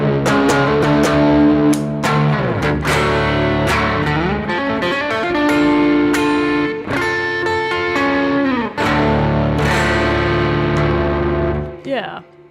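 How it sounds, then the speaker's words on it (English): Overdriven electric guitar on the bridge pickup, with a bright, trebly tone, plays chords and single notes, ringing out loudly with brief pauses between phrases. "just a nice overdriven sound"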